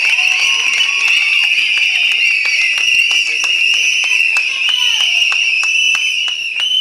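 At a Tamil political party event, an audience gives loud applause to welcome senior leader K. A. Sengottaiyan, with scattered claps under a constant shrill, piercing tone.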